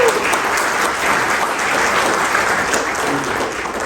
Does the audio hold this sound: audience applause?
yes